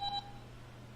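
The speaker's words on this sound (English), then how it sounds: "sorry, I forgot to silence my phone again." A phone's notification beep, a short two-tone electronic chirp that sounds once near the start and then cuts off, leaving a faint low hum.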